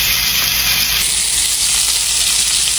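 Meatballs frying in a fat-filled skillet for Swedish meatballs, giving a steady, loud, close sizzle and crackle that holds on without a break.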